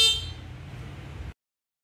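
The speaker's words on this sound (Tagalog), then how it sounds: "At syempre, ito kanyang busina." A single short electronic horn beep from a small electric scooter sounds at the start, followed by a brief low hum that cuts off abruptly into silence.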